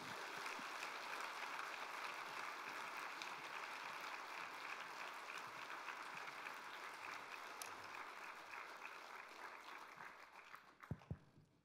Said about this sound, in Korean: 목사님 우리 감사하고 또 힘내시라고 크게 박수로 환영하겠습니다